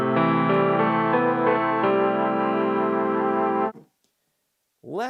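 A sustained Mellotron piano chord blended with the breathy Mellotron flute tone, rich and steady for several seconds, then cutting off before a brief swell returns.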